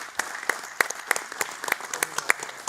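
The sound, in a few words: applause from audience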